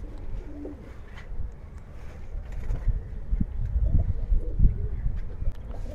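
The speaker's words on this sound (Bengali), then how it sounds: "এইখানে আরো একটা কবুতর আছে মাশাআল্লাহ খুব সুন্দর" Giribaz pigeons cooing in a loft during a pigeon sale: soft, low, repeated coos from nearby birds with rustling and background noise, no talk.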